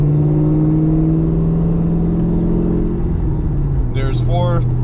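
A 2011 Camaro SS V8 holding a steady, loud droning pitch while running through the gears, dropping in tone as it shifts, with a person speaking over the engine near the end.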